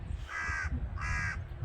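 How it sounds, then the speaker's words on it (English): A crow beside a canal gives two harsh, drawn-out caws, evenly spaced and fairly close, over a low background rumble. "That crow's laughing at us."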